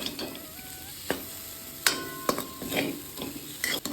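Raw banana with salt and turmeric sautés in a pan, a moderate sizzle punctuated by several clicks and scrapes of a spoon stirring against the metal.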